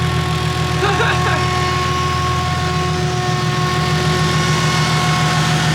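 A freshly built engine in a BMW E36 idles steadily on its first start-up, a loud, even hum with a tonal drone that runs throughout, and brief voices come through early on.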